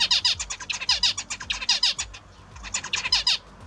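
A zebra finch sings its courtship song, a loud, close run of rapid, buzzy repeated notes with a brief pause midway before the phrase resumes.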